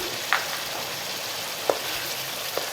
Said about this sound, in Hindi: अब आलू डाल के और ये दही डाल के भून रही हूँ